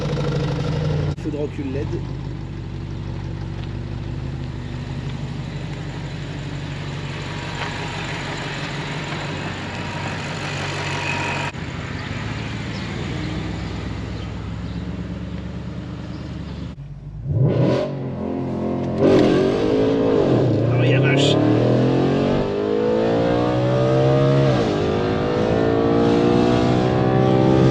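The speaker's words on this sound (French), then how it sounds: "Démarrage du V8, c'est parti." Audi RS4 B8 V8 engine cranking over, then settling into a loud, steady idle before blipping up into several revs, heard close by with people talking alongside.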